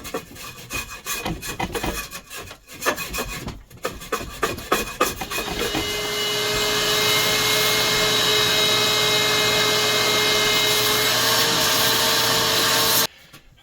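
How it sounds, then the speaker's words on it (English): A handheld torch roars steadily and loudly for several seconds to dry something, coming after a stretch of scraping and rubbing noises, then cutting off abruptly. "I like to take the torch and just dry it up."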